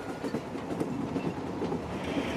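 A train on India's railways rumbles along with a steady, moderately distant rolling roar and faint rhythmic clatter of wheels on track, holding even throughout.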